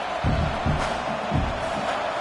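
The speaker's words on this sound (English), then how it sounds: "This crowd bringing the energy and noise early" Steady stadium crowd roar from the College Football 26 video game during a play, a dense continuous wash with a few swelling surges of cheering.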